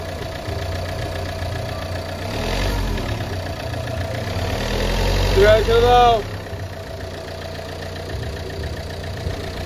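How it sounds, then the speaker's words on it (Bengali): A Renault Lodgy diesel engine idles steadily with a low, even drone, then revs up briefly before settling back, while a person speaks a short word nearby. "গাড়ির ইঞ্জিন সাউন্ড শুনলেন"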